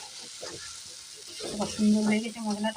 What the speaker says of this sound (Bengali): মশলাটা দিয়ে তেল ছাড়ছে, একটু ভালো করে কষিয়ে নিতে হবে মশলাটা